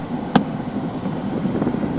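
Handbrake on a 2021 Toyota Fortuner Legender released with one short, sharp mechanical click close by, set against a steady low hum of the vehicle.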